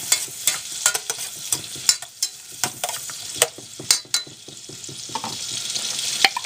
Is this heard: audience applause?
no